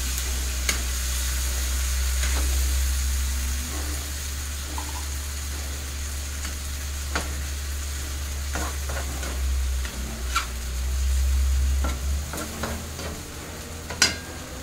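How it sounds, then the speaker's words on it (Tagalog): A spoon stirs sardines in a frying pan, scraping and clinking in scattered taps over a low steady sizzle and rumble. "Ayan, ihalo na natin."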